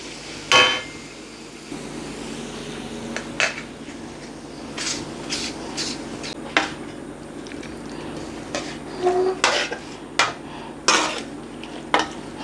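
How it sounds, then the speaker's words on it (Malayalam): A spoon stirs chole curry in a metal pot, scraping and clinking against the sides in irregular knocks and taps over a faint steady kitchen hum, with no voices. "നന്നായിട്ട് വീണ്ടും ഇളക്കി കൊടുക്കാം"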